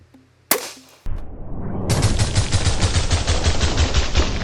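A rifle fires an 8.6 Blackout round outdoors: one sharp, loud report, then a sustained, dense, rapidly pulsing rattle that continues to the end, with no voices.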